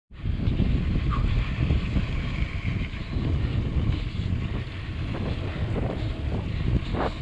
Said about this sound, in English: It's always a headwind along this section too.